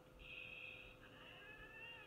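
A cat gives a single drawn-out meow that wavers in pitch for over a second, faint and slightly distant against a quiet hissing background with no talking.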